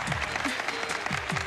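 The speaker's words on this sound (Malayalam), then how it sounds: "സൈലന്റ് ആയിട്ട് കൈയടിക്കൂ പ്ലീസ്" Soft applause from a movie audience, a dense patter of hands with voices mixed in beneath.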